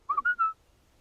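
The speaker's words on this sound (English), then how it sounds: "he whistles back." Answering whistle from a companion in the Rocky Mountains, three quick bright notes in half a second, the last two held slightly longer, fairly close and alone against near silence.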